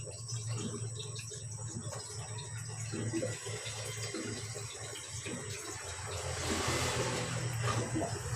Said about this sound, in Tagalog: Bigyan natin ng sabaw.